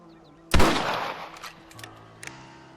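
A single sharp rifle shot in Red Dead Redemption cracks loudly, then rings out into a fading echo, followed by faint, distant clicks.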